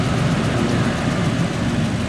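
A 2006 Ford F250 engine with a leaking exhaust header gasket idles close by, a steady low rumble with a faint rapid ticking pulse throughout.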